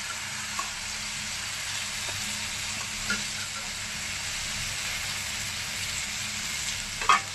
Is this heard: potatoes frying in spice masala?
yes